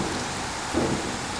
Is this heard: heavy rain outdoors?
yes